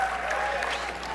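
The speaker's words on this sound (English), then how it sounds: "you'll see everyone in the room basically clapping like sheep" Audience applause at the Oscars ceremony, a dense, steady wash of clapping from a large room that fills the whole moment without letup.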